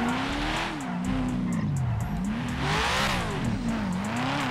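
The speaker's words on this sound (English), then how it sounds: "We got the LS engine in this junk." A car with an LS engine in GTA 5 revs and accelerates close up, its engine pitch climbing and dropping in repeated surges with some tire noise, alone without talk.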